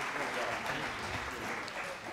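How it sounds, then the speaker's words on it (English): Audience applause at a urologic oncology retreat meeting, a steady dense clapping from a seated crowd that holds evenly for the whole stretch. "So you should be applauded for sure."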